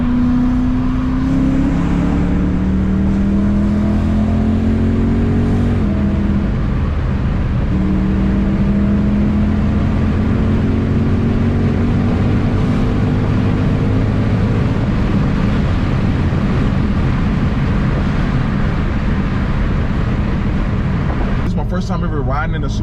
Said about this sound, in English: First time ever riding in a supercharged M3, and this thing moves, man.